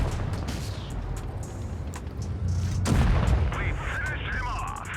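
In the tank game WoT Blitz, an artillery shell strikes a tank with a sharp booming impact partway through, set against constant battle noise, crackling shots and rumbling, with a voice speaking over it.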